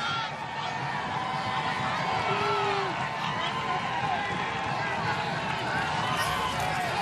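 Football stadium crowd in Norfolk roaring at a college game between Hampton and Norfolk State, a sustained dense wall of cheering with a commentator talking over it.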